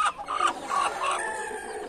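Several chickens cluck and call close by in short bursts, with a rooster-like crow mixed in, fairly quiet overall.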